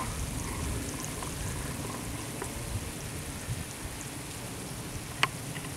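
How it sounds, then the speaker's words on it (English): Garden plants watered with a spray of water make a steady, even hiss like rain on leaves and soil. It holds at moderate volume throughout, with one small sharp tick near the end and no voices. "watering the plants now."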